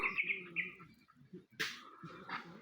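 A bird chirps in short, bright bursts near the start and again in the middle over low background murmur, fairly faint and close.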